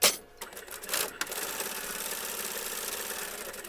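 Sewing machine stitching a seam on fabric for a hexagonal Christmas gift bag, a steady fast mechanical whir that runs continuously after a few brief starting bumps, close and fairly loud.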